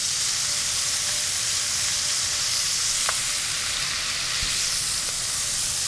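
Pork pieces searing in a single layer in a Dutch oven, giving a steady bright sizzle close up, broken by a couple of faint taps.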